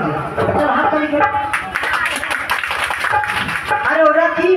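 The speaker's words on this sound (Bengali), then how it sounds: "চলো হাততালি করে" An audience claps along in a steady rhythm at a Posora kirtan performance in Purba Medinipur. The claps are fairly close and carry on under continuous singing and talking.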